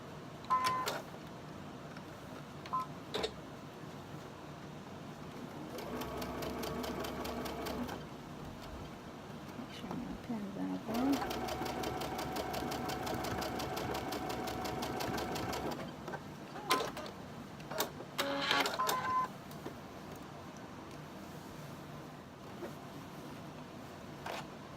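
A sewing machine stitches quilt block fabric in several bursts of fast, steady mechanical whirring, separated by pauses with soft handling clicks and rustles; faint and close.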